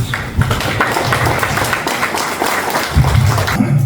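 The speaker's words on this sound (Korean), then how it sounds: "큰 박수로 우리 정명학 씨님을 모시겠습니다" Audience applause at a lecture event greets a speaker being introduced to the stage, a dense steady patter of many hands clapping at moderate loudness with faint murmurs underneath.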